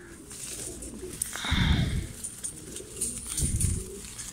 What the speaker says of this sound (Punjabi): ਇਹ ਕਬੂਤਰ ਜੀ